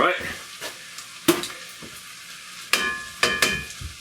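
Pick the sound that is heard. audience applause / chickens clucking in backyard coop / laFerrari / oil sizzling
oil sizzling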